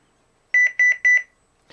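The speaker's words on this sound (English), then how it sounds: "When the exit delay is completed, you'll hear 3 beeps" Three short, clear electronic beeps, each a quick double pulse, sound evenly spaced from a CareTaker Plus home alarm system from 1992 as its exit delay ends, followed by a brief softer click.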